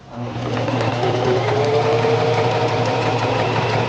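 A Singer Simple sewing machine runs steadily while sewing a seam, a continuous mechanical hum and whir holding at constant speed throughout, close and fairly loud with no talking.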